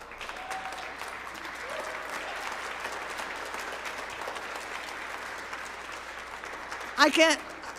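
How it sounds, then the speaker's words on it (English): An indoor crowd at an interfaith refugee Shabbat Havdalah gathering claps steadily in a sustained round of applause, with a few whoops and cheers rising near the end. "ask for a round of applause for Adama Ba."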